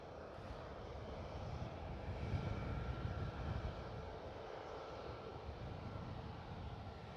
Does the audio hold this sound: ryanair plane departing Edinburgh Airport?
yes